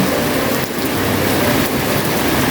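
Heavy rain pours steadily and loudly onto an old, non-concrete house with fallen gutters, a dense continuous hiss with no voices.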